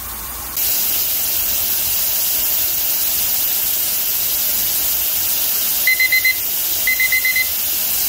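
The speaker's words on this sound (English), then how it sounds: "you can hear this thing venting like crazy" A pressure canner vents steam in a steady, loud hiss while canning carrots, with bursts of short high beeps near the end.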